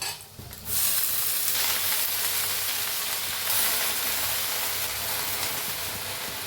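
Fenugreek greens drop into hot oil with garlic and chilli, setting off a sudden loud, steady sizzle that hisses evenly for several seconds, close and without talk.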